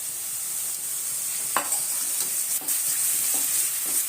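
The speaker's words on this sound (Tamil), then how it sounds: "சேர்த்துட்டு நல்லா வதக்கி விட்டுடலாம்" Onions, tomatoes, curry leaves, mint and coriander sauté in a pan for a wheat kichdi, with a steady close sizzle broken by several sharp scrapes of a spoon stirring.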